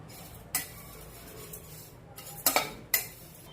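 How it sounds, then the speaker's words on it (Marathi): Flattened rice (poha) dry-roasting in a pan for a Malvani vada flour blend, heard as a few sharp scraping and clinking strokes of a spoon against the pan over a quiet background, with no talking. "आता आपण त्यामध्ये पोहे टाकून भाजून घेऊया"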